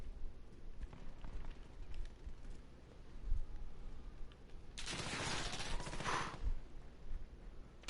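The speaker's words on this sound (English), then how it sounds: "Where are they shooting from?" Gunfire in the video game Call of Duty: Modern Warfare, fairly faint bursts of shots and rattling under a low game soundscape, with a denser, louder volley in the latter half.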